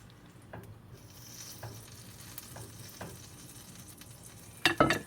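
Ham and cheese sandwich frying in butter in a pan, a steady low sizzle with a few soft scrapes and taps, then a louder burst of crackling and clatter near the end.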